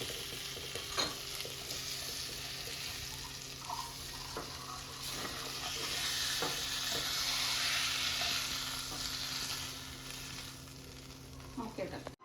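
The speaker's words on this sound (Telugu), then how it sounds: "ఇలా షాలో ఫ్రై అయితే సరిపోతుంది." Chicken masala shallow frying in a pan, a steady close sizzle with occasional stirring clatter and scrapes, running continuously without talk.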